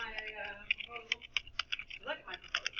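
Typing on a computer keyboard while building a graph in Excel: a quick run of light, irregular key clicks, close and fairly quiet, with a voice talking over part of it.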